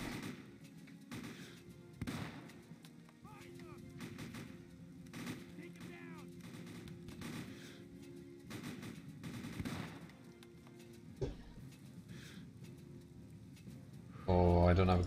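Gunfire in the World War II: Sniper video game, repeated sharp shots at uneven intervals, faint in the mix, while someone talks over it.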